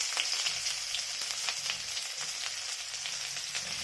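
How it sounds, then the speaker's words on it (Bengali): Chopped onions fry in oil alongside softened bitter gourd pieces and two chillies, a close, steady sizzle with faint scattered crackles throughout. "কুচনো পেঁয়াজগুলো দিয়ে দিলাম।"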